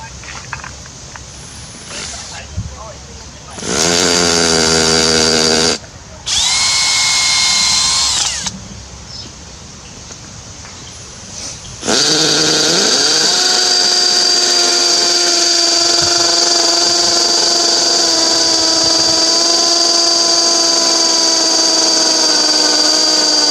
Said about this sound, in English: Drilling through with this